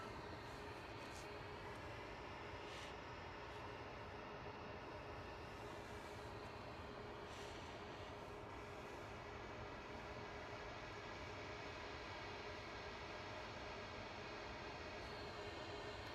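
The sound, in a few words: Ryanair Boeing 737 Max 8 departing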